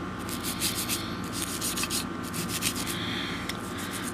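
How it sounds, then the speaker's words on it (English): Stiff bristles scrub along the outer frame rails of a CZ75 pistol during firearm cleaning, a steady close rubbing and scratching that runs the whole time in quick back-and-forth strokes, with no voices. "brushing out the rails means coming to the outside of the firearm"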